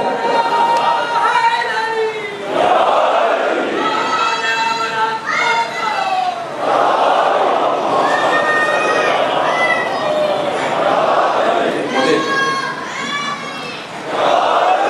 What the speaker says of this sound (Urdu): مجھے تعجب ہے میرے تبلیغی جملوں پہ مجھے اتنے نعرے دیتے ہیں